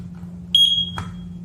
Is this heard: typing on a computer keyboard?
no